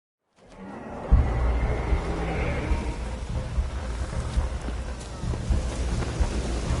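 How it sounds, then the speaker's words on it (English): Steady rain and wind in the video game The Witcher, a continuous wash of rainfall with low rumbling thunder underneath, sustained throughout after a silent start. "Looks like rain."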